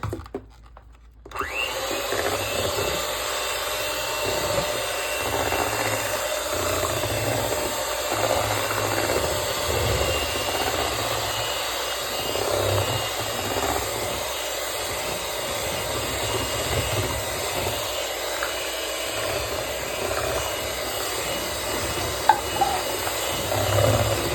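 Continuous whirring of an electric mixer blending sweet potato pie filling with flour, a steady motorized drone with a grinding edge, starting after a brief pause and running on with small changes in pitch.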